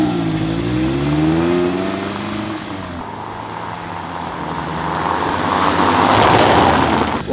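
A Mazda car accelerating, its engine note rising and sweeping upward in pitch before settling into a loud, steady roar that swells again near the end, close and dominant with no talking over it.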